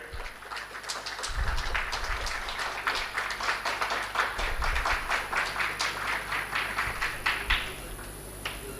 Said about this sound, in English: A big round of applause is required.